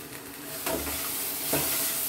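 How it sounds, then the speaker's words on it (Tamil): Food cooking in a pan in a South Indian kitchen, a soft hissing sizzle with two brief scraping stirs, fairly quiet and close. "அப்பப்போ அதை கிண்டி விட்டுக்கணும்."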